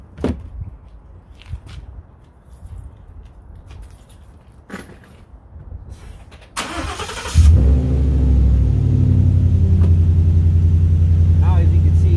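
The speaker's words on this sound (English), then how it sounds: "All right, let me turn on the truck." A Ford F-150 pickup truck engine is started after a few quiet clicks and shuffles: the starter cranks briefly, the engine catches with a loud surge, then settles into a steady, rumbling idle.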